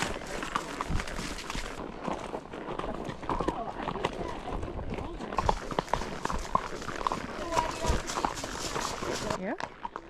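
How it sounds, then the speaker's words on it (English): Horses in metal shoes walk on pavement near a racetrack, their hooves making a clear, uneven clip-clop that runs throughout while people talk over it. "You have to ride carefully when on pavement because the horses slip pretty easily on it in their metal shoes."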